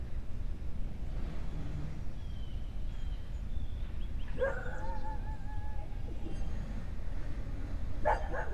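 A dog barks and whimpers in the distance with a few short yips, faint against a steady background hiss and some bird calls, no talking.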